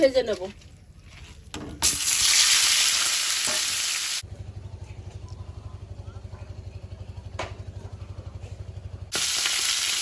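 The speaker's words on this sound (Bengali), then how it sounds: "কড়াইতে তেল দিয়েছি প্রথমে আমি চিকেনটা সামান্য লবণ হলুদ দিয়ে" Chicken pieces with salt and turmeric frying in hot oil in a kadai, a bright sizzle burst that drops away to a low rhythmic hum, then the sizzle returns at the end.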